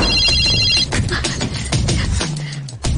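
A telephone ringtone in a Telugu action thriller film, loud electronic ringing tones in a repeating pattern, heard alone at close range without speech.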